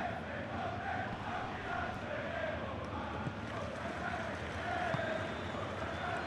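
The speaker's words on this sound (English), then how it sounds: "Well, the crowd clearly like what they just saw." Steady roar of a large football crowd cheering a defensive play at a Cagliari–Catanzaro club friendly, a dense, continuous wash of voices with no clear breaks across the whole stretch.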